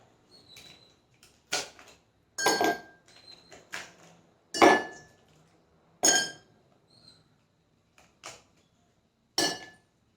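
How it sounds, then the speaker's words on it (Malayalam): Ice cubes dropped one at a time into a glass before pouring a banana coconut smoothie, giving a series of sharp, separate clinks spaced a second or two apart, close and clear against quiet. "നമുക്ക് രണ്ട് ഐസ് ക്യൂബ് ഇട്ട് കൊടുക്കാം"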